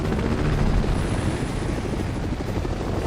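Continuous helicopter rotor noise, a dense steady whirring roar at moderate level with no other sounds over it, holding unchanged throughout.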